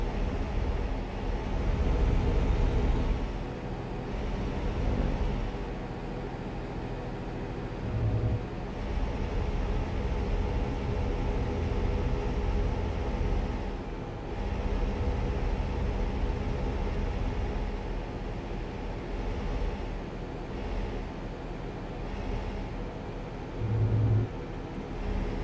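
Truck engine in American Truck Simulator driving from Reno to Ukiah, a continuous low rumbling drone with steady road noise, moderately loud and alone, rising slightly in spots as the engine load shifts.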